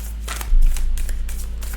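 Moonology oracle cards being shuffled by hand, a close, quick run of soft riffling flutters over a low steady hum.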